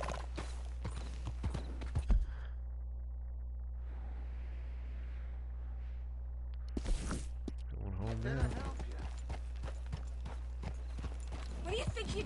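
Horse hooves clip-clop steadily as a rider travels in Red Dead Redemption 2, a quick rhythmic patter under frequent talk and a low steady hum.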